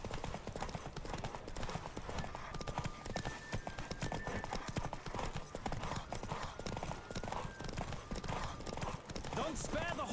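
Racing horse at full gallop in The Witcher 3, hooves pounding in a quick steady beat from start to finish, with spoken game dialogue over it.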